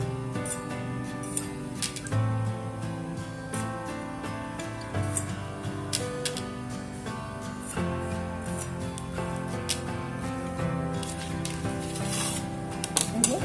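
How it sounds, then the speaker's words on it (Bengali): A knife trims the ends off whole pointed gourds (potol), sounding as a series of soft, short taps and clicks in an uneven rhythm over low background music. "প্রত্যেকটা পটলের মুখ এইভাবে কেটে বাদ দিয়ে ফেলে দিচ্ছি"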